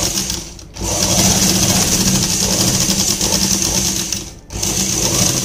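A sewing machine stitches palazzo fabric in two long, fast runs, a loud close whirring hum broken by a brief pause before picking up again, with no talking.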